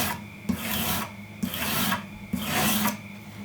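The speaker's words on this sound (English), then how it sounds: "you're not really trying to bend the broadhead as you go down the sandpaper" Single bevel broadhead drawn across sandpaper for sharpening, four long rasping strokes in a steady rhythm with short pauses between, close and clear with no talking.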